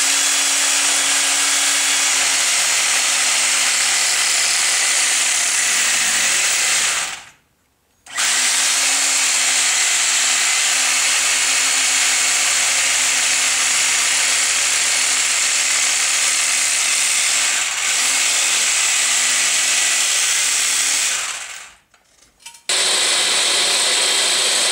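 A reciprocating saw or jigsaw cuts out parts while building a vacuum chamber, running as a loud, steady buzzing whine with two brief pauses where the blade stops before starting again.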